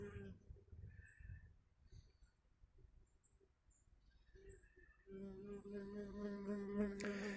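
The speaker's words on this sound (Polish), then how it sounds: "Czasami taka osa usiądzie nam na ręce czy nodze." Wasps buzz faintly in a garden, the drone coming and going before swelling louder and more constant toward the end.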